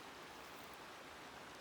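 Creek water rushing steadily in March Creek, a spring stream in Southern Kananaskis, with a constant broadband wash and no pauses or voices.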